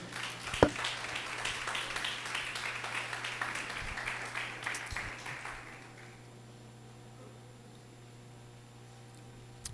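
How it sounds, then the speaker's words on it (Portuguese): A church congregation applauds for several seconds, a dense patter of many hands over a steady low hum, then the clapping fades out into quiet room tone. "dê um aplauso ao Senhor no seu lugar."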